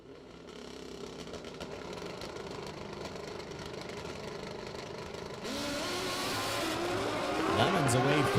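Drag racing bikes at a ManCup World Finals event roar down the strip. The engine noise builds and rises sharply in pitch as they launch and accelerate. A race announcer talks over the din.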